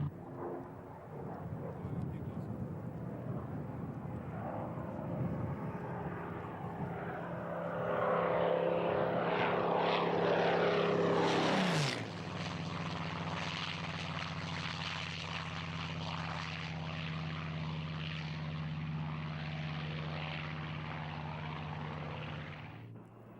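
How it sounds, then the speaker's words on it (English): A Supermarine Spitfire's piston engine roars overhead at an air show, its propeller drone rising to a loud peak and then sliding lower as it passes and fades away. "The piston engine, propeller-driven Spitfire leads the 9 jets of the Red Arrows."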